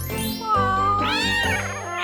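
A kitten meows in two or three drawn-out, rising and falling cries, close and clear, with no talking.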